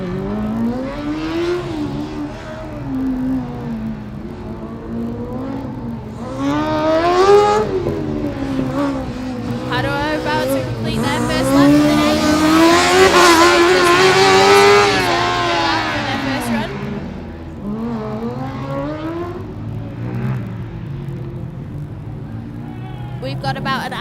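Formula Student race cars run an autocross course at Formula Student Germany 2012, the engine note climbing and dropping in repeated sweeps through gear changes. It stays loud and continuous, swelling to a peak midway before easing off.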